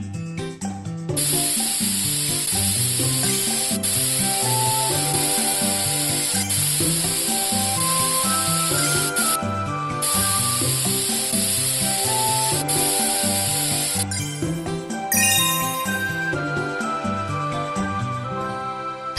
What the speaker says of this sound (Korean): 에어스프레이로 먼지를 청소해주세요.